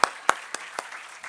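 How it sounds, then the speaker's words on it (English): A few scattered hand claps from an audience at a speaking event, about five separate claps spaced unevenly and fading softer over a second. "Can we clap for him, please? A round loud of clap."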